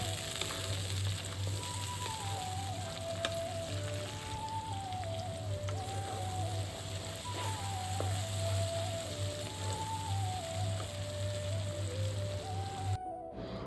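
Onions fry in a pan for a Bengali egg curry, a steady close crackling sizzle that runs throughout, with gentle background music over it and no talk.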